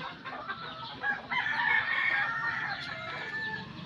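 A rooster crows loudly and close by, a long strained call with clucking fowl around it and no one talking.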